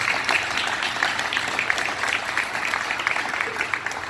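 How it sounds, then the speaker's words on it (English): Moderate applause from a small gathering at an athlete's signing event, even clapping at a middling level that carries steadily for about four seconds. "a round of applause is definitely necessary"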